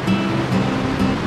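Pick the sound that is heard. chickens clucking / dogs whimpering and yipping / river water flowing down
river water flowing down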